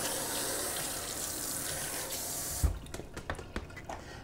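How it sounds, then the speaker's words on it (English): Tap water runs into a kitchen sink as a cutting board is rinsed while preparing mahi mahi, a steady close rush that stops abruptly, followed by scattered drips and clatter. "Then we'll rinse it up like I'm doing here"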